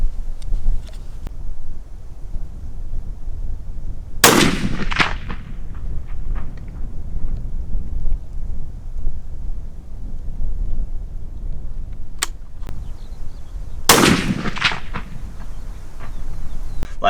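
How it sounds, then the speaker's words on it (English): Two sharp, loud rifle reports, about ten seconds apart, come from a Christensen Arms 300 PRC firing ELD-M rounds without a muzzle brake at a private outdoor range, with wind noise between them. "so now we are doing 2 shots. No muzzle brake with the ELD-M"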